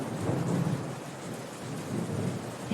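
Steady heavy rain pours through a thunderstorm, a dense continuous hiss with low rolling thunder rumbling underneath, constant and loud with no voices.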